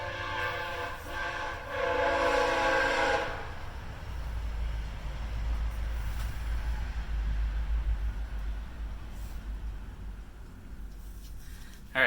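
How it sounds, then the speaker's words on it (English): A train passes right beside a house, opening with a loud horn blast, then rolling past as a steady deep rumble and rattle that slowly fades. "The train here is passing right beside the house right now"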